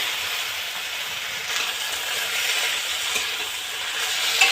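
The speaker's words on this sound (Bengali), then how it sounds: "এই দেখো এখন মশলাটা দিয়ে দিচ্ছি। মশলা দিয়ে একটু কষি" Spices stir-fry in a hot pan for a home-cooked Bengali dinner, giving a steady, close hissing sizzle with faint scraping. No one talks.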